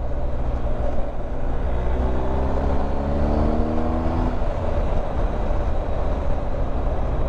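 A BMW R1250 GS HP motorcycle being ridden on an organised outing, its engine a steady, loud drone with a pitch that rises and then falls midway, heard alone without talk.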